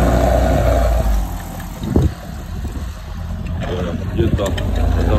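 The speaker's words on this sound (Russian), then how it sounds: "Мотор ревет." Boat motor running at night on a river near a lock, a low droning engine with rough knocks and splashes of water, fairly close and steady throughout.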